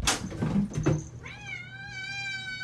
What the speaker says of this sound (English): Now we got cats.